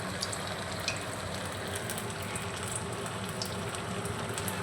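Battered raw potato pieces dropped into hot oil give a steady, dense crackling fry throughout, with small pops now and then and no voices.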